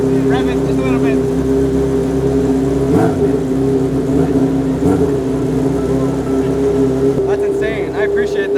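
A racing car's engine drones loudly and continuously, holding a steady idle with slight revving swells, and voices talk over it.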